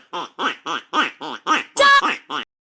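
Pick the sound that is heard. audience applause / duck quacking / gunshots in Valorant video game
duck quacking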